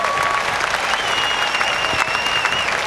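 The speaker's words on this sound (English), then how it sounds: "Give them another hand of love." A convention audience at the National Quartet Convention gives steady, dense applause for the gospel group the Kingsmen. The clapping fills the hall without a break from start to finish.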